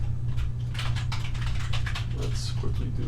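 Rapid clicking of keys being typed on a keyboard, steady and close, over a low hum, with someone speaking softly at times.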